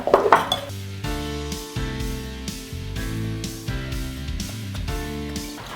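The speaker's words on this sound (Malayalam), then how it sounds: "ഞാനൊരു വലിയ ജാർ എടുത്തിട്ടുണ്ട് നമുക്ക് ഇതിലേക്ക് കൊട്ടിക്കൊടുക്കാം" Soaked raw rice tipped into a large mixer jar, a short rattling clatter at the start before steady background music carries on alone.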